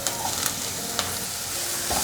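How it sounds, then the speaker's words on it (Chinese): Carrots with shiitake and king oyster mushrooms stir-fried fast in a hot pan, loud close sizzling broken by quick spatula tosses and scrapes. "放入红萝卜，快速翻炒"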